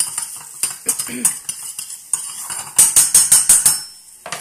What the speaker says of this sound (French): Pensez à mélanger vos petites pommes.